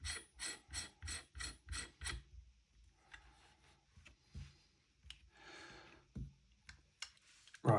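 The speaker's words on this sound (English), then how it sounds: "So we'll screw on the barrel nut." An airsoft barrel nut on a Noveske Ghetto Blaster is screwed on by hand: about two seconds of close, rhythmic rasping turns, then scattered light clicks and handling noises.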